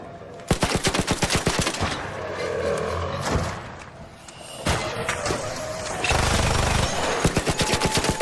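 Automatic gunfire from an enemy in the video game Arc Raiders rattles in rapid bursts, loud and close, with a pause in the middle and heavier blasts and crashes between the volleys.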